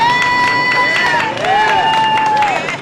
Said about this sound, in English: those waiting in line cheer for the upcoming medical attention